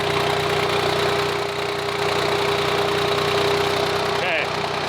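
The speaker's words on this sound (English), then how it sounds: "I've had the car idling here for about 10 minutes" Car engine idling steadily, a constant low hum with a sustained tone, close and even throughout, with a brief clunk near the end.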